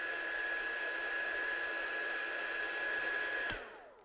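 A heat tool blows steadily on the back of a handmade card to flatten its curl, a constant whirring hiss with a faint high whine that cuts off near the end and quickly fades.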